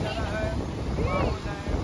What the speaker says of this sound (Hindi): ये देखो ठंडी हवा आ रही है